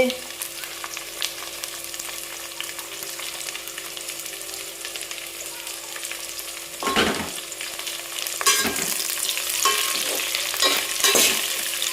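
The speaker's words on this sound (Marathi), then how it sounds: "आता टाकते मी मिरच्या मस्त तेलात कांदा आणि मिरच्या छान तळू देते" Onion and green chillies fry in hot oil for a chicken pulao, giving a continuous close sizzle that grows louder and busier with bursts of stirring toward the end.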